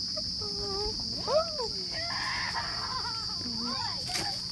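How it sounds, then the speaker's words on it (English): A bird on a mountain in Australia gives a series of warbling, whistled calls in short rising and falling phrases, close and clear over a steady high insect-like hiss and low background rumble. "This bird."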